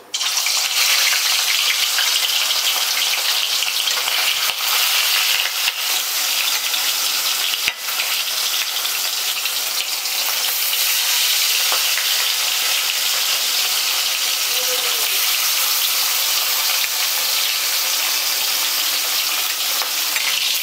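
Loud, steady sizzling of katla fish pieces frying in hot oil, continuous crackle throughout with a few brief clatters, no voices.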